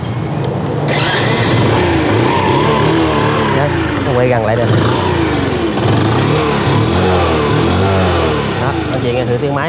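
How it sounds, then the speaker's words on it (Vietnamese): Gray Honda Super Cub 90cc motorcycle engine, a 1994 or 2008 model, running at a steady close putter with a brief throttle rise, loud and continuous, while someone speaks Vietnamese over it. "bây giờ thì em sẽ nổ máy cho anh chị nghe thử tiếng máy của cái chiếc màu xám này trước ha"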